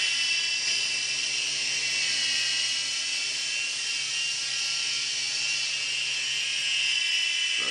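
A Sky Rover Liberator toy RC helicopter hovers with a constant high-pitched whine of small electric motors and rotors, steady and fairly close, with no talking.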